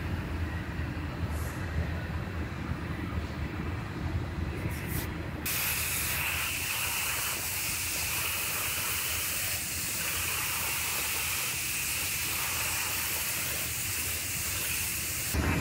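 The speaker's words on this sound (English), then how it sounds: "I'm going to go ahead and spray that chip guard on it" Chip guard coating sprayed from a gun onto a car door in a body shop, a steady continuous hiss lasting throughout, shifting slightly in tone partway as the spray pattern changes.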